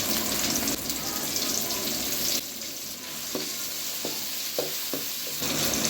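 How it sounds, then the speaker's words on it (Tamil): Tomatoes sautéing in oil in a pan for Chettinad chicken gravy, a steady close sizzle and crackle running throughout, broken by a few soft stirring knocks near the end. "தக்காளி நல்லா மசிகிற வரைக்கும் எண்ணெயிலே நல்லா வதக்கி விட்டுக்கோங்க."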